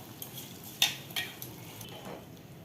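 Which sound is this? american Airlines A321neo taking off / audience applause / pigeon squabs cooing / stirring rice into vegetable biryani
stirring rice into vegetable biryani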